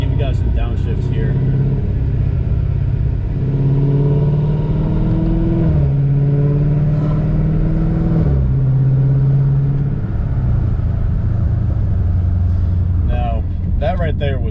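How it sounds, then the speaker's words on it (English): A car with a modified exhaust downshifts, engine note rising and falling through several blips and gear changes, loud and close with a deep rumbling drone, ending in a burst of crackles. "so I'm going to give you guys some downshifts here."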